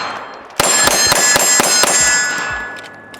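A West German Sig Sauer P226 handgun fires about six rapid shots. Each shot rings a steel target with a sharp metallic clang, and the ringing tails off after the last hit.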